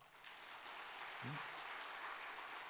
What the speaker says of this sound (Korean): 박수 한번 쳐줘봐.